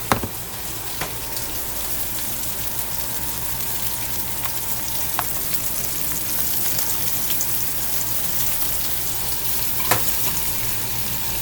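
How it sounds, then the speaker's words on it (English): Butter and rosemary sizzle in a large skillet with steak, giving a continuous, even crackling hiss heard up close, with a few faint clicks along the way. "we're going to add just a little bit more butter because this pan"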